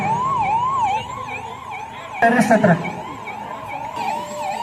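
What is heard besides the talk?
ambulance siren during police mock drill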